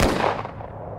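A single blank round fired from a military rifle in a barracks horror story, one sharp loud crack that decays into a short reverberant tail, heard alone.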